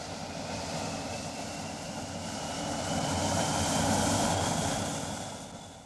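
A twin aircraft engine being run up and down on the ground at an airport, a broad steady roar that swells and then eases off over several seconds, heard at a moderate distance with no one talking.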